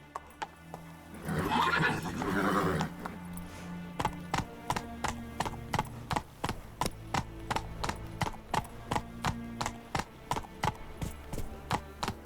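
A horse's hooves clop in a steady, even gallop rhythm in The Witcher 3, preceded by a loud whinny near the start; the hoofbeats stay close and distinct throughout.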